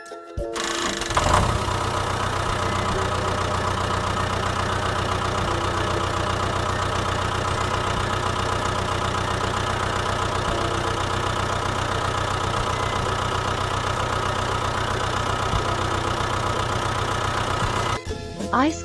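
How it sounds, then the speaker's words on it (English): A tractor engine idles steadily with a continuous low mechanical drone that holds level for most of the stretch, with a brief rise at the start and a short cutoff near the end. "Tractor."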